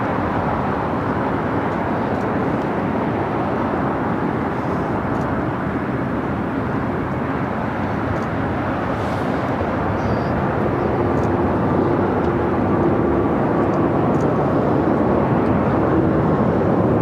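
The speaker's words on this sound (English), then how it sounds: "Virgin Atlantic Flight 8 heading to London Heathrow at A350-1000" Airbus A350-1000 jet taking off from runway 25 right at LAX, a steady, loud broadband engine roar holding throughout with a faint whining tone, no voices.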